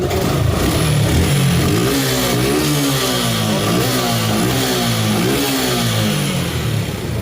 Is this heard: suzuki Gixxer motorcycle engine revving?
yes